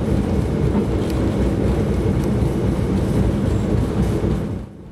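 Jayabaya passenger train at Cepu station, a steady loud rumble of rolling stock and engine noise running throughout and fading out at the very end.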